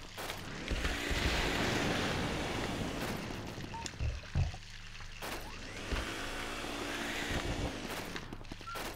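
Water runs continuously in the Luigi's Mansion video game, a rushing, surf-like wash that swells and fades, broken by a few low thumps.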